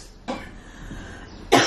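Two short, sharp coughs a little over a second apart, close to the microphone in a quiet room.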